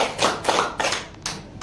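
A few hands clapping at a high school teachers' gathering, sparse and uneven bursts of clapping rather than a full crowd, close and moderately loud.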